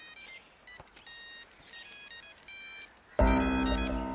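A cellphone rings with repeated bursts of bright electronic beeping tones in a steady on-off pattern, then a sudden louder, fuller burst of sound takes over near the end.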